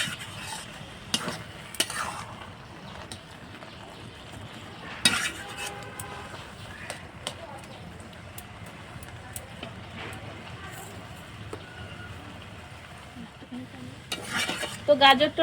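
Carrots cooking down in thickened, reduced milk for carrot halwa are stirred in a pot, producing soft intermittent scrapes and clinks over a faint simmer, louder near the end.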